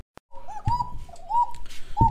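Satin pigeons coo at a farm in Rajshahi, a few rounded, wavering calls in short bursts, fairly close and clear, with a soft thump or rustle at the start and no talking.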